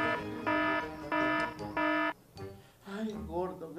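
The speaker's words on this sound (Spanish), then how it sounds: "Está sonando la alarma." An alarm sounds in a film scene as three evenly spaced, sustained electronic buzzing tones, followed by people talking.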